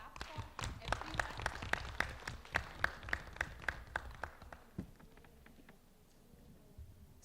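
At a core skills workshop in Delhi, a small group claps in a loose, fairly regular rhythm, each clap distinct and close, building briefly before tapering off into near quiet.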